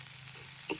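Chopped onions sizzle softly in a frying pan while being stirred, a faint, steady crackle with a single light utensil clink near the end.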